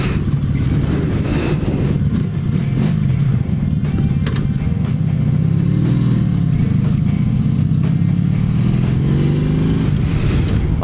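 A Honda V65 Magna V4 motorcycle with a Mac exhaust runs at a loud, steady idle close by, with a deep, throbbing exhaust note and slight shifts in pitch. No one speaks.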